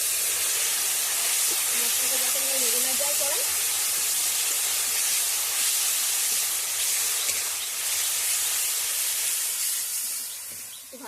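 Water splashed into a hot pan of turmeric and chili spiced masala for chicken sets off a loud, steady hiss of steam that runs the whole time, with a voice talking over it.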